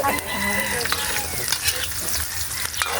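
Onion frying in a hot pan with garlic, giving a loud, steady sizzle with stirring scrapes close by, and no talking.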